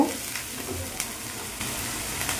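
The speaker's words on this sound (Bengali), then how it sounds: "পেঁয়াজটা দিয়ে দিলাম, একটু নাড়াচাড়া করব" Onion paste frying in a pan while being stirred, giving a steady soft sizzle with a few scraping stirs, close and continuous with no talk.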